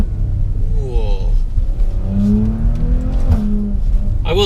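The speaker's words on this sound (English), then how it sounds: "I'm still enjoying the characteristics of this engine note." A Maserati SUV engine rumbles deep and loud, its note rising and swelling through a rev in manual mode, with a brief voice over the sustained growl.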